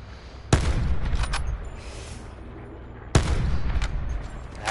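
Two loud, sharp gunshots in the video game Blackout, a few seconds apart, each followed by rattling echoes and lingering rumble. The second shot is as close and strong as the first.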